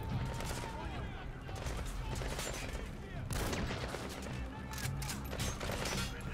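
Rifle fire in Metal Gear Solid 5: The Phantom Pain, a fairly faint run of sharp shots repeating in quick, dense bursts throughout.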